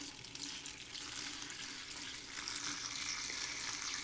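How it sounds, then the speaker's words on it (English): Filtered water running and splashing into a pot of herbs for a decoction, a steady soft gurgling stream that continues evenly for several seconds with no talking. "take water, filtered water, please, and enough of it to go ahead and cover your herbs"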